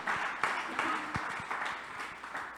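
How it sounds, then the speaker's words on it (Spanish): Congregation applauding during a church service, a steady wash of clapping that swells and fades over a couple of seconds with a few sharper individual claps standing out; moderately loud, with a faint voice mixed in. "dale un aplauso fuerte al Señor"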